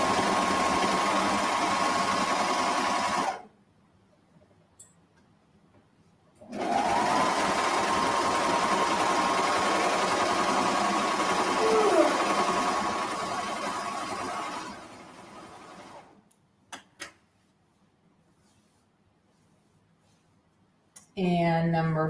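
A sewing machine stitches fabric for a pocket seam in two fast, whirring runs, a short one then a longer one, separated and followed by quiet pauses with faint handling clicks.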